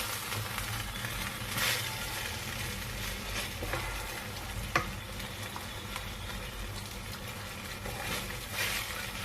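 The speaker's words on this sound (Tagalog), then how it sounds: "Itong halo lang yan. Hanggang malawsa yung ano natin. Yung karne." Beef stir fry is stirred in a pan over a low, steady sizzle, with scattered clanks and scrapes of the utensil that come up close and fairly loud at a few moments.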